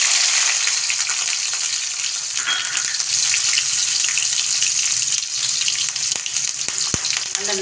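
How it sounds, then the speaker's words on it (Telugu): Onions fry in hot oil in an iron pan, a loud, dense, continuous sizzle with occasional faint clicks of a spoon. "ఉల్లిపాయలు వేస్తున్నాండి"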